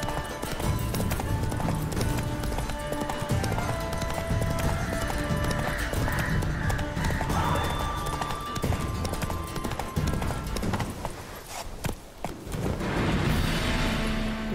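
Rhythmic hoofbeats of a galloping horse pound steadily in The Witcher 3: Wild Hunt, with a horse neighing and game-like rumbles in the background.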